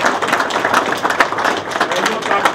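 Audience applause for Renata Mauer-Różańska at a public gathering, a steady dense patter of many hands clapping throughout, fairly loud and continuous, with crowd noise blended in.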